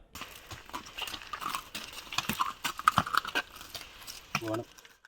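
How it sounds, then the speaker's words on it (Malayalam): A horse pulling a horse cart in Kasargod, Kerala clip-clops with steady, close hoof beats, under people talking nearby. "കുളമ്പടി ശബ്ദം നാട്ടിലെ കൊച്ചു കുട്ടികൾക്കടക്കം ഇപ്പോൾ സുപരിചിതമായി കഴിഞ്ഞു"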